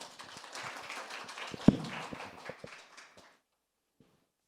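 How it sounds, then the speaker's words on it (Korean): Audience applause at a school joint-curriculum results presentation in a hall, greeting a teacher coming up to speak; a moderate burst of clapping that swells briefly, then fades out, leaving silence. "뜨거운 박수로 환영해 주시기 바랍니다"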